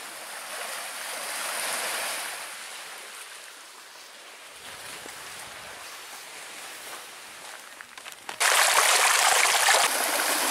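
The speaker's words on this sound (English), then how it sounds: "right along the trail there's this cool running stream with little rapids" A running stream with little rapids beside a muddy trail on Grand Island in Lake Superior gives a steady broadband rush. The water grows suddenly louder and closer near the end, as though approached.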